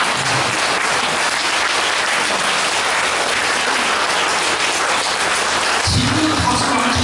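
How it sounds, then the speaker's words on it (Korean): Dense audience applause fills the room steadily for the whole stretch, loud and continuous like heavy rain, with a low murmur rising near the end. "제가 불장을 들면 박수를 치시는 겁니다."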